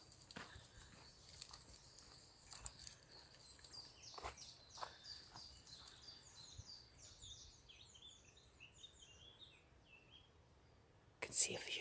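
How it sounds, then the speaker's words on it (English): Small birds chirp and tweet outdoors in scattered, overlapping calls, faint and at a distance, with a soft hiss of background and a louder burst near the end. "Lots of chirping."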